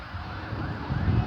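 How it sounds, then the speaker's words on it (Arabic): An ambulance siren arriving at a large fire at a public security workshop, a wailing tone rising and falling at a moderate distance over wind noise and low rumble, no voices. "هلا لسه اجى اسعاف شايف"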